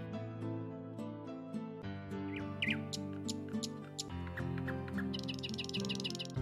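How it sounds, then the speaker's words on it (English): A bird building its nest chirps in short, bright calls that rise over steady background music, with a denser burst of twittering near the end. "What is that bird doing? The bird is building up a nest."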